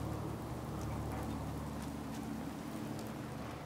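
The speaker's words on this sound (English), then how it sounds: "Hope this rain lets up soon." Steady rain falls in the video game Fallout 4, a constant hiss with soft pattering that holds evenly and fairly faint throughout, with no voices.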